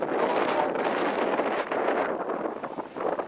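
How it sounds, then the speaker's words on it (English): Wind buffets the microphone in a steady, rough rumble with gusts rising and falling outdoors in a park on a cool, sunny day, no voices present. "It's windy out here today."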